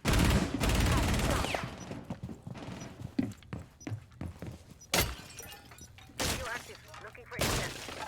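Gunfire in the video game Rainbow Six: loud, dense bursts of shots at the start, then scattered single cracks and three more sharp bursts later, with voices chatting underneath.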